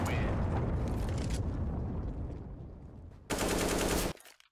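Rapid automatic gunfire in Counter-Strike on the Dust2 map, a dense sustained burst that fades, then a second loud burst of shots near the end, with no talking.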